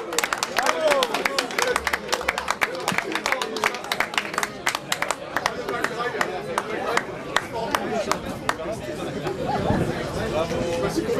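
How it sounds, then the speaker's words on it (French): Spectators at a cantonal footrace prize-giving applaud an athletics champion, sharp, close, irregular claps from a small crowd over murmured chatter, continuing for several seconds before thinning out. "On peut l'applaudir très fort."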